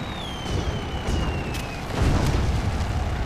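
Explosions wreck military emplacements in the Toy Soldiers video game, a few muffled booms and bursts rolling under a busy mix of battle noise, with a thumping blast near the two-second mark.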